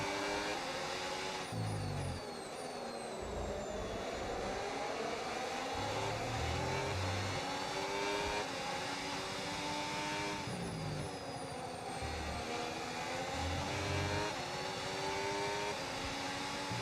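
A Cadillac Formula 1 race car in the F1 26 racing video game revs hard through rising and falling gear sweeps, with a high engine whine that is loud and continuous throughout.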